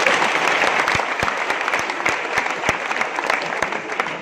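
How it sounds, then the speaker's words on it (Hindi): Audience clapping at a career guidance programme, a continuous bed of many hands with a few distinct loud, sharp claps standing out at irregular intervals, sustained at an even level. "बजाओ ताली उनके लिए"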